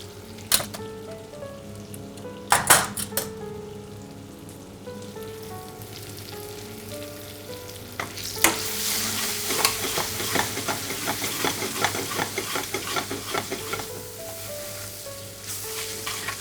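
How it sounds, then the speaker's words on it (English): Dry spices, red chili powder and a pinch of turmeric, sizzle and fry in a pan while being stirred. A steady crackle runs throughout, with a few clinks of the utensil early on and a louder, busier sizzle toward the end. "I'm going to cook the spice for at least a minute or 2."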